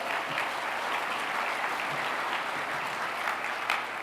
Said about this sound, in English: Let's give our Congressman a big round of applause